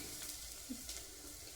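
Tempering sizzling in a pan for tomato rasam, a soft, steady hiss with faint crackles, quiet and close, with no voices.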